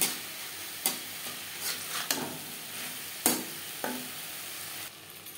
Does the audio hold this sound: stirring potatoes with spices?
yes